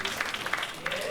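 Audience applause at a live comedy podcast taping: a short, dense burst of clapping and crowd noise, loud and close, lasting about a second.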